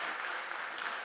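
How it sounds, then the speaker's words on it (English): An audience at a tech conference talk claps for the event organizers, a brief, even burst of many hands applauding together at a moderate distance. "Everybody give a huge round of applause for the organizers."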